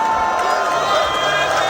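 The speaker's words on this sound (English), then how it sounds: "You hear a couple of shouts there." A large arena crowd at a CS:GO esports quarterfinal, PGL Krakow 2017, North vs Virtus.pro, gives off scattered shouts over a steady, dense roar of many voices.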